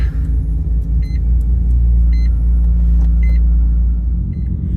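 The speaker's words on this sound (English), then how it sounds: "I'm always concerned when this car sits for more than a day, but looks like she's gonna start up" 1994 Mazda RX-7 rotary engine idling after starting, a loud steady low rumble close by, with repeated short electronic beeps over it.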